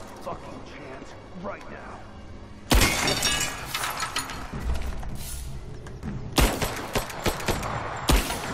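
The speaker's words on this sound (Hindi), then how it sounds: "और धनाधन गोलियां चल गई।" Gunfire in the action game Rise of the Tomb Raider: a sudden loud volley of shots bursts in, then sustained crackling combat noise with repeated sharp reports, after a quieter stretch of low talk at the start.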